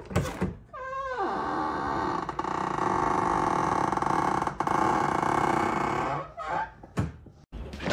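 A worn door check on a Ford car door gives a long, loud groaning creak that holds for several seconds as the door swings, with short clunks at the start and end.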